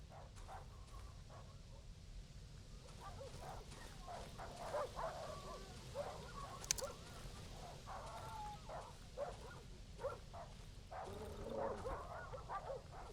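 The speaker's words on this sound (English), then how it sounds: "I was about to ask if there were bigger dogs that were out here. Sounds like that's a yes." Dogs barking and yipping in the Darkwood survival horror game, faint and distant, scattered over a low droning ambient bed with no talk.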